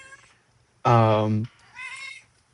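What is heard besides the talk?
pet cat meowing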